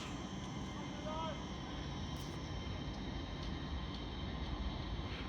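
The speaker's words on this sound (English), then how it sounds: "Departing now will be your 1318 LNER Azuma service to Edinburgh Waverley from London King's Cross" A departing LNER Azuma train at Peterborough station, a steady broad rumble and hiss that holds level throughout with faint higher tones, no voices heard.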